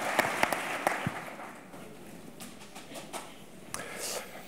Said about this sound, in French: Je vous demande de l'applaudir parce que c'est énorme.